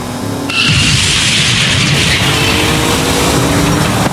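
Video game car sound effects: a sudden loud burst as nitrous kicks in, followed by a sustained roaring, noisy rush of engine and impact sound that holds steady and close throughout.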